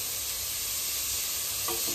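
Vegetables fry in a hot wok with a loud, continuous close-up sizzle and crackle, a faint steady hum underneath, and a brief stirring clatter near the end.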